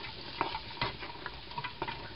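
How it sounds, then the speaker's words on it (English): Steady sizzling of garlic frying in a pan for broccoli soup, with soft scraping strokes of stirring every half second or so, close up and fairly quiet. "you can hear it sizzling now"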